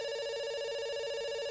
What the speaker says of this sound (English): It's ringing.